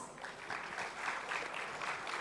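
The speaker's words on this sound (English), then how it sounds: "Please give another round of applause" Steady applause from a conference audience at an AI event, a dense, continuous wash of clapping with no gaps, heard from within the hall at moderate loudness.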